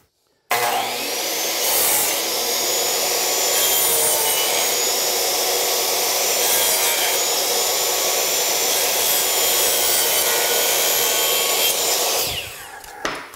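A power saw cutting wooden door and window trim, one loud continuous whining cut lasting about twelve seconds up close, then spinning down, with no talking.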